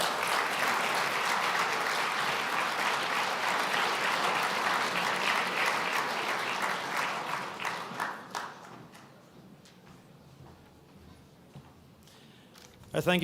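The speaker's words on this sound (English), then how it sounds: "please give a warm round of applause" A conference audience applauds a Minister of State for sport and postal policy at the Global Ireland Summit 2025: dense, steady clapping for about eight seconds, then it thins out and fades to near quiet.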